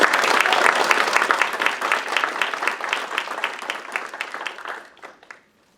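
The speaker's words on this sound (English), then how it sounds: "Please join me in a round of applause for this wonderful lady who raised a wonderful son." An audience at an Army civilian retirement ceremony breaks into dense, steady applause that carries for several seconds, then thins to a few scattered claps and fades out, with no one speaking over it.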